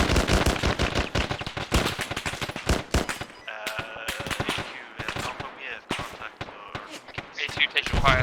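Arma 3 video game gunfire crackles in rapid bursts of loud, sharp shots, some in machine-gun strings, with brief pauses between volleys and voices talking over the firefight.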